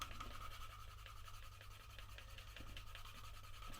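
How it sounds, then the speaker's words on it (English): A burnishing stick rubs briskly along the edges of leather, producing a steady, close, continuous scuffing friction with faint repeated strokes over a low constant background hum. "swapping over to the main body of the burnishing stick and just giving it a rub down"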